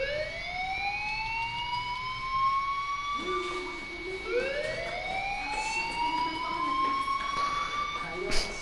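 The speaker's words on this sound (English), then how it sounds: "Hey, do you hear that fire alarm?" A fire alarm wails in a video game, a rising-and-falling siren sweeping repeatedly and holding steady in the background as a voice talks over it.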